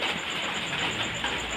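Steady hiss of rain falling, continuous and fairly close, with no voices.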